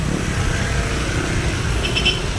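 Evening street traffic on the road toward Talamban from Banilad, near a crash scene: a steady, close rumble of car and motorcycle engines running without a break, with no voices.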